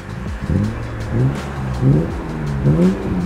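BMW car engine, from an older E-series model, revving repeatedly in a steady rise-and-fall rhythm, loud and close with no talk over it.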